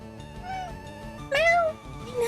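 A cat meows several times during a Pokémon FireRed stream: a few quieter mews first, then a louder, longer rising-and-falling meow, and another short one at the end, close by.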